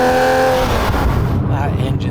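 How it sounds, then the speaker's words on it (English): Close, loud engine note of a 400 bhp Manthey Racing Porsche 911 996 GT3 Clubsport while driving, with someone talking over it. "That engine sounds wonderful, it really does."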